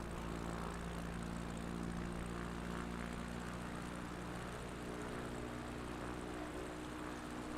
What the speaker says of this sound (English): This plane does not like going out of the sky.